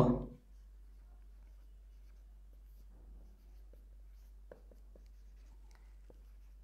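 Chalk or marker writes math on a board, soft scratchy strokes in short bursts with pauses between them, faint and close, with no talking.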